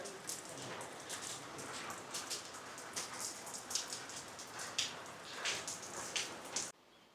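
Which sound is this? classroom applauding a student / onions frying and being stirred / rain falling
rain falling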